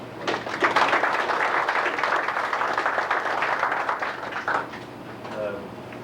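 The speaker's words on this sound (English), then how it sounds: "I'd like to give those people a round of applause" Round of applause from an audience at a 1992 FFA meeting, rising quickly, holding for about four seconds, then fading out, with a faint steady hum underneath and a brief voice near the end.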